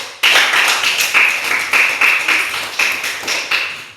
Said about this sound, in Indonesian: Tepuk tangan dulu sama teman kita si Rafe.